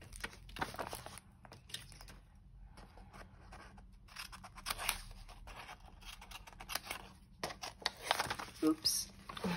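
Sharp metal paper snips slice through junk-mail envelope paper, giving a string of crisp, close-up cuts and crinkles with scattered loud snaps, while faint background activity runs underneath.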